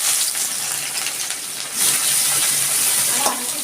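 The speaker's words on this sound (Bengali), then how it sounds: "পেঁয়াজটা আমি একটু লাল লাল করে ভেজে নিচ্ছি।" Two onions fry in oil in a wok for a fish curry, a moderate steady sizzle with occasional stirring scrapes and clinks close by.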